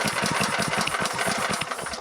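Air compressor running steadily beside a car being worked on for differential removal, a close, loud mechanical drone with a quick regular pulsing chug throughout and no talking.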